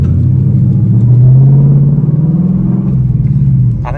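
A loud V8 engine of a Gen 3 Mustang GT burbles at low idle, deep and throaty through a muffled Flowmaster performance exhaust, with a slight rise and fall in revs.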